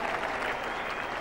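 A cricket crowd in England applauds Sunil Gavaskar's 200 runs with a dense, sustained round of clapping that stays steady and loud throughout.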